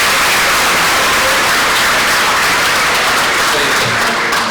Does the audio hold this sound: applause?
yes